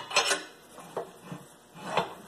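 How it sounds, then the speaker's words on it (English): Tire spoon knocking and scraping against the tire bead and steel rim on a rim clamp tire changing machine. Three or four separate metallic clinks with quiet gaps between them, close and fairly soft. "with the tire spoon, you'll grab the bottom bead"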